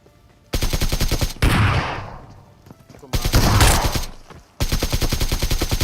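Bursts of shotgun fire in a battle royale video game, with loud rapid blasts in several clusters separated by brief gaps, some shots trailing into a noisy echoing decay.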